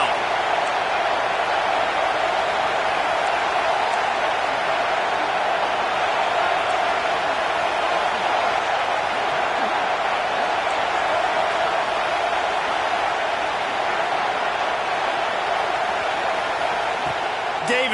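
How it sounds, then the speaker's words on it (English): A stadium crowd in an NCAA college football video game roars steadily and loudly for the full length, building as the defense faces third down, with no break in the wash of noise. "Decibels rising as the crowd gets behind this defense on 3rd down."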